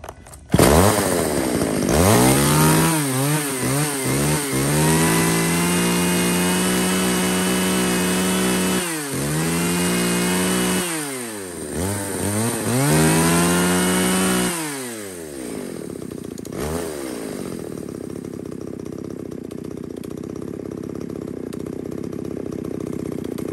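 A small one-handed Tanaka C9 chainsaw runs loud and close, revving up and down repeatedly in rising and falling whines between idling stretches, then settles to a steady idle.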